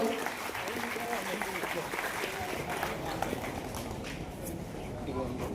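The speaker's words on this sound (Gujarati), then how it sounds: "જોરદાર તાળીઓ" Dense, steady applause rolls on throughout with voices talking over it, sounding like a clapping crowd in a hall at a community student award ceremony.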